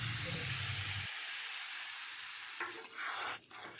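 Ol dhoka mixture of yam with turmeric, sugar and a little water hisses and sizzles steadily in a kadai, with a few soft stirring scrapes near the end, close and fairly quiet.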